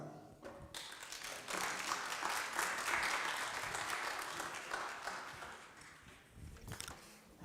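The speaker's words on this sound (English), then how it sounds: "So please, a warm applause for Mr." An audience at a conference session applauds to welcome a moderator, scattered claps swelling into steady clapping that tapers off, with a few louder close claps near the end.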